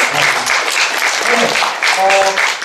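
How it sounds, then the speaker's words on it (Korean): Audience applause breaks out at a Korean church lecture on the Holy Spirit, a dense, loud clapping that runs throughout while voices can be heard talking faintly within it. "박수 하겠습니다."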